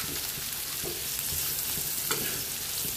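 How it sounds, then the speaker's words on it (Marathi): Sliced onion frying in oil in a pan for an egg paneer tawa fry, a steady dense sizzle with faint scattered stirring clicks, close and alone without voices. "तेलामध्ये परतून घ्यायचं आहे कांदा।"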